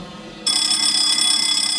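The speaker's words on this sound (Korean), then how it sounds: "이와 동시에 법당 안에 화재 경보기가 울린다." Near silence breaks into a loud fire alarm inside a temple hall, triggered by a fire-detection test. It sounds a shrill, continuous electronic ring that holds steady to the end.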